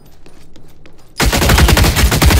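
Loud, rapid automatic gunfire in the game The Cycle: Frontier suddenly erupts after a quieter stretch and keeps going as a dense, continuous burst of shots.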